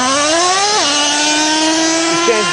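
Nitro engine of a Traxxas T-Maxx 3.3 RC truck (model 4908) running at full throttle with a fault, a loud, high-pitched steady whine that drops in pitch partway through as it shifts gear, then wavers briefly.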